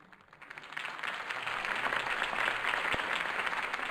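Crowd applause at a Harvey Dent campaign rally in the Batman Telltale video game swells from quiet to a broad, sustained roar of clapping, slightly distant and without speech.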